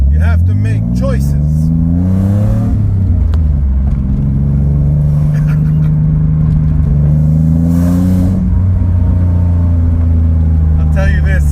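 A Nissan 300ZX Z32 convertible engine revs loud and close, with a deep rumbling note that climbs and falls through several rising sweeps over a steady idle.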